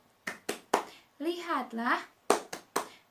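Children in an Indonesian third-grade classroom clap a rhythmic cheer: three crisp claps, a short stretch of a voice, then three more evenly spaced claps, all close and clear.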